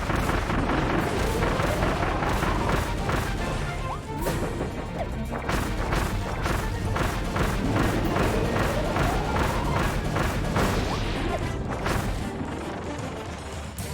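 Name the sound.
Wispy Woods boss bombs in the video game Kirby and the Forgotten Land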